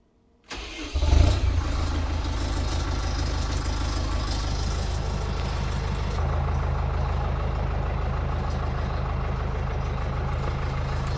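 A vehicle engine starts abruptly after a moment of silence, surges, then settles into a loud, steady, close running drone that holds throughout as it begins to pull away.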